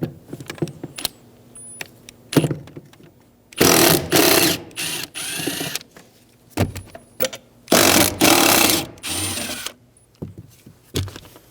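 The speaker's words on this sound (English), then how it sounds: "Using a T40 bit, we're going to remove the bolts" A T40 Torx bit backs out bolts from the rear seat brackets of a 2000-2007 Ford Focus, giving close, uneven bursts of ratcheting and whirring separated by short pauses and light metallic clicks.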